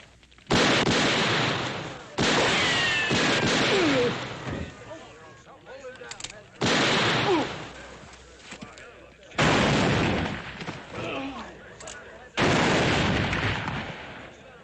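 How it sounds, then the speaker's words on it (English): Gunshots ring out in a western shootout, five loud booming blasts spaced a couple of seconds apart, each echoing and decaying, with faint background sounds between them. "That's enough shooting."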